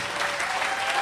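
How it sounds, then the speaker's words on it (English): An audience at an evening author talk claps together in a dense, loud, sustained burst of applause filling the whole moment without pause. "let's have a big round of applause for Donna and Bill Burtch"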